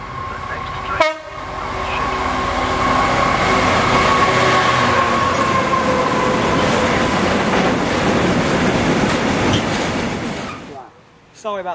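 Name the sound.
freight train passing through Cholsey station in rain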